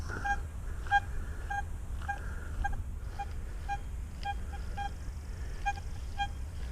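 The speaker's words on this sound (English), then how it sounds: "Consistent signal coming over it with this detector here" A Deeptech Vista X metal detector sounds over a deep target, likely a nickel, giving a string of short, faint, repeating beeps against a low background rumble.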